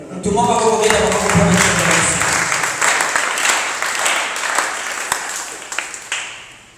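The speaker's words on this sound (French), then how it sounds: "Est-ce que quelqu'un peut acclamer?" A church congregation breaks into loud, sustained applause and cheering that fills the room, a dense wash of clapping with a few voices rising through it and a sharp clap standing out near the end.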